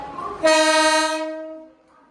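A loud local train horn blares once for about a second at a station platform, a steady harmonic tone that fades out as the train moves on, with no talking.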